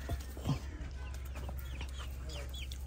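Chicks being fed millet give soft, faint clucks and peeps over a steady low background hum, with a few brief calls near the start.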